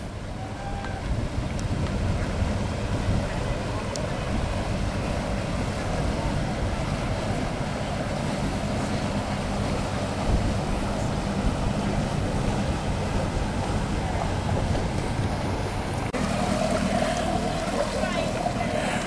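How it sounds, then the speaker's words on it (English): A big paddle boat cruise vessel on the Norfolk Broads gives a steady low engine rumble with water wash and wind buffeting the microphone, continuous and fairly close, with voices occasionally talking over it. "Yeah, looks like a paddle boat."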